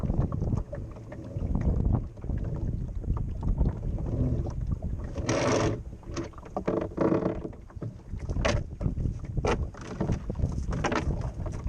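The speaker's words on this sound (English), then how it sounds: "Having hoisted the sail, I'm now hauling in the anchor to which my boat had been lying all through the night." Anchor being hauled aboard a small sailboat in a harbour after lying at anchor overnight, heard as scattered knocks and rope rubs over steady wind buffeting and lapping water, with several sharper bursts close to the microphone.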